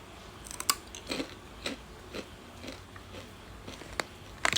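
Crispy baked pork stick snack crunched between teeth, with a handful of sharp, close bites and crackles spaced irregularly over a quiet background, heard alone.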